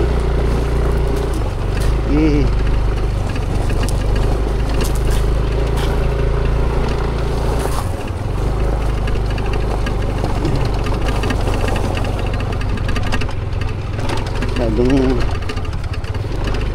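A city motorcycle engine drones loudly and close by, labouring and straining on loose, slippery sand, with two brief revving surges as it works against the ground.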